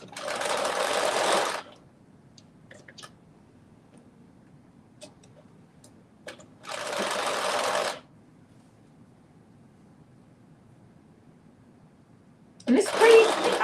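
A sewing machine runs top stitching to encase elastic in a garment, with three short, close whirring bursts separated by quiet gaps that hold faint ticks and handling noises.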